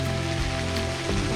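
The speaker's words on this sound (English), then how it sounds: "it's starting to rain again." Rain falling on a leaf-covered forest trail at Chewacla State Park, a continuous soft hiss of drops on leaves with a low steady hum beneath, close and even.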